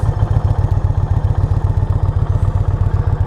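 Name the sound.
2020 Indian Challenger motorcycle being ridden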